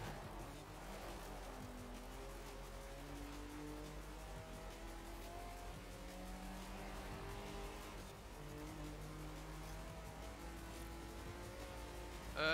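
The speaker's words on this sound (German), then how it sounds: "jetzt hört man die Autos besser" Racing cars in a PC video game, a steady blend of engine tones that shift in pitch as gears change, continuous and moderately loud with no talking over it.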